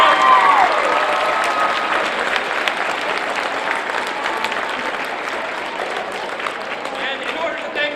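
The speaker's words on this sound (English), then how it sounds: "Give these guys a round of applause" Audience gives a sustained round of applause, loud and dense at first and easing slightly over eight seconds, with crowd noise mixed in and a brief whistle near the start.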